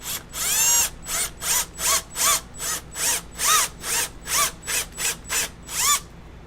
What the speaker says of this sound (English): I'm a little drill bit here for the eye hole.